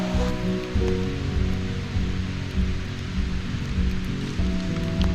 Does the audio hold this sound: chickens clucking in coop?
no